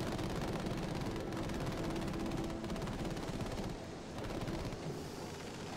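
Aircraft machine gun firing in Battlefield 5 during an air battle, a continuous rapid rattling stream of shots over a droning engine that eases off slightly near the end.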